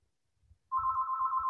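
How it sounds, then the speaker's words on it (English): A phone ringtone starts partway through and rings steadily and loudly as a sustained electronic tone, with faint low thumps underneath. "and my phone's ringing."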